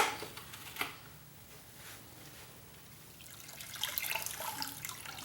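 Water splashes and trickles from a bucket while stainless steel tumbling pins are rinsed in brass cleaning, soft irregular swishing with a few louder splashes and a busier, sloshing stretch toward the end.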